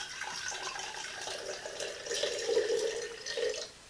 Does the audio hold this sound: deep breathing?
no